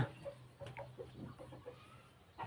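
Chickens clucking in a farm setting near a cattle pen, several short, irregular clucks at close to moderate distance, fairly quiet, with a brief louder burst at the end and no speech.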